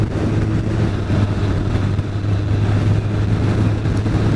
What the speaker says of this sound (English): So 175 brake horsepower this thing, but it's happy tickling along at 40 in fourth.